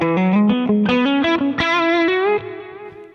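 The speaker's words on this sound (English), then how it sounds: "the clean humbucker in the bridge, cleanish humbucker in the bridge" A bridge humbucker on an electric guitar played clean as a lead voice, a quick run of single notes climbing then holding a sustained, slightly bent note, close and loud.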